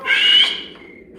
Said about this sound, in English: Call that a whistle?